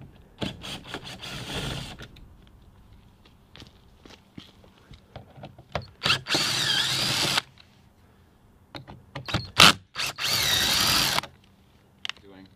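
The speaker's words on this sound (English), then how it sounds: "Now go ahead and remove the three T30 bolts." Power drill driving out T30 bolts on a BMW F30, several separate loud, close whirring bursts of one to two seconds each, with clicks, handling knocks and quiet gaps between them.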